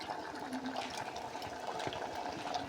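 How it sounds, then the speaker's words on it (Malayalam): Tamarind water is poured into a pot of onion sambar in a soft, continuous trickle, fairly quiet and close. "പുളിക്കനുസരിച്ചുള്ള പുളി നമുക്ക് ഒഴിക്കാം"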